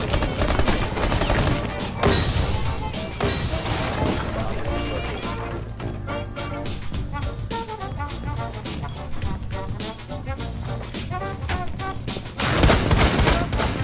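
Rainbow Six Siege gameplay fills with rapid gunfire bursts and grenade blasts, sharp repeated cracks and thuds, close and loud throughout, while a player talks over the action.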